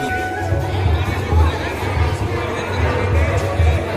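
Crowd at a Garhwali dhol damau cultural gathering in Chandigarh, a dense babble of many voices with a low rhythmic drumming pulse underneath.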